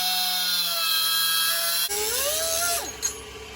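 A power tool whines steadily while cutting through a car coil spring, then shifts pitch as the blade bites into the metal, with a high sustained grinding tone and a brief clank near the end.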